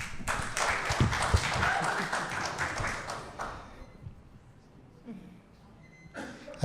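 Audience clapping at a 2018 candidates forum in Westbrook, a brief burst of applause from a room crowd that fades out after a few seconds, followed by quiet room noise and a few faint bumps.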